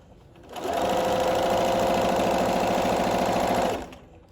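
A sewing machine stitches a rolled hem in one continuous run of a few seconds, a close, even mechanical whirr with a rapid rattling beat, starting and stopping cleanly in a quiet room.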